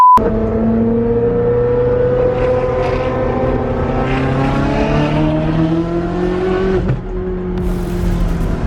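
Loud, raspy engine of a straight-piped Ferrari with a 3.6-litre motor revs and pulls continuously, pitch climbing and dropping as it accelerates, close by with no voices.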